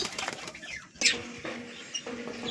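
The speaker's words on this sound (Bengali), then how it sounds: "দেখো পায়রাগুলোকে ওড়ালাম" Pigeons take flight with a burst of wing flapping, a sharp flurry of wingbeats close by followed by softer fluttering as they move off.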